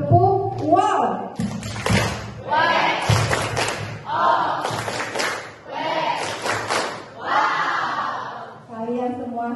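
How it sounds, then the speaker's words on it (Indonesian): Schoolchildren in a classroom perform a rhythmic clap chant together, loud and close, with bursts of claps mixed with shouted chanting voices throughout. "Silakan tepuk, wow."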